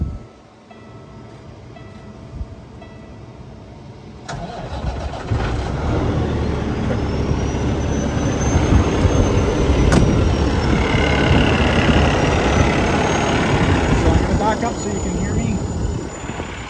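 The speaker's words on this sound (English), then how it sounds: "I'm going to start the truck." A 2015 Peterbilt 367 heavy spec tractor's engine cranks and starts, settling into a loud, steady diesel idle rumble that continues throughout.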